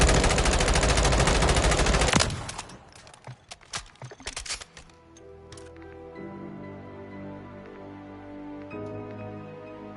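Rapid continuous automatic gunfire in the video game Modern Warfare Zombies, loud for about two seconds, then scattered shots and clicks over quieter game music and ambience.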